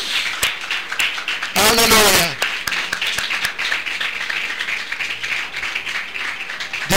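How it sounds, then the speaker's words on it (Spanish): Church congregation applause offered during a Spanish-language service, scattered claps with voices and a sung or shouted exclamation rising over it. "Denle una ofrenda de aplauso al Señor."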